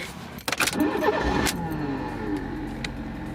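A car engine catches with a rough burst close by, then settles into a steady, continuous running hum.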